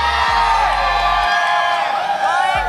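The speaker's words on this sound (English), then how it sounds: "Wanna hear some of the shout from the Filipino crowd?" A Filipino crowd at a Mobile Legends: Bang Bang esports world championship match cheers, whoops and shouts in a loud, continuous roar that stays steady throughout.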